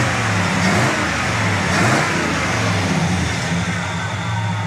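A numbers-matching Pontiac 400 V8 in a 1968 Pontiac GTO convertible runs with a steady, loud mid-range rumble, rising briefly as if lightly revved, then settling back.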